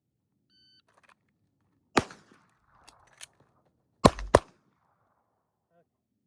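Pistol shots at a shooting training range: a single sharp report, a couple of faint knocks, then two loud shots in quick succession, with quiet between.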